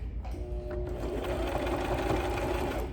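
A sewing machine stitches a thick fabric face mask, running as a steady, close, continuous mechanical whir for the whole stretch with no talking.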